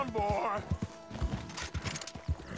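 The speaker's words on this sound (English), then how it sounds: "I'm not happy with this horse." A horse in Red Dead Redemption 2 clip-clops with rhythmic hoof thuds, close and fairly loud, with a brief whinny near the start and someone talking over the hoofbeats.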